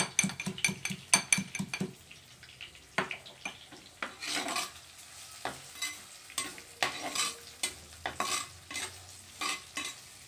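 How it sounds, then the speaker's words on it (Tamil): Beetroot sautéing in a pan with crushed garlic for poriyal, with rapid clusters of utensil scrapes and clinks against the pan over a soft sizzle, then spaced repeated stirring strokes, close and fairly loud. "நல்லா வதக்கிக்கணும்"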